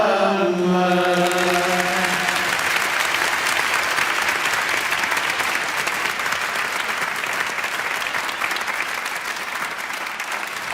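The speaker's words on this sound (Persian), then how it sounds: "با این تشویق من مهمونم رو دعوت نمی کنم" An audience claps steadily and loudly at a children's show, a dense wash of many hands that holds for about ten seconds and tapers slightly, opening over the tail of a sung tone.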